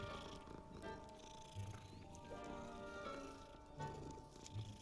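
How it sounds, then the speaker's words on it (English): An angry cat in the video game Hogwarts Legacy gives low, quiet growling and purring rumbles at intervals over a soft sustained musical drone. "That's an angry looking cat."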